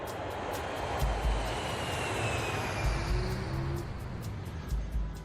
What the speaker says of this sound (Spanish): están más que acostumbrados al sonido del despegue y aterrizaje